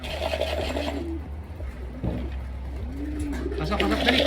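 A racing pigeon coos softly and repeatedly as it arrives back at its loft during a pooling training flight. A steady low hum and faint background activity run underneath.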